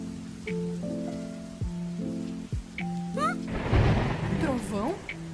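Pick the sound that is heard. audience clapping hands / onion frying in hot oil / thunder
thunder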